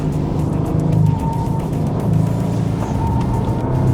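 A Bentley sports coupe's engine gives a steady low rumble from inside the cabin while cruising, an even drone with slight swells in loudness and no talking.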